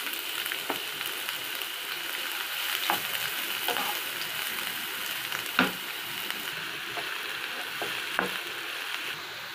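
Onions fry in hot oil in a pan with a constant soft sizzle, broken by occasional light stirring clicks and scrapes, with no voices.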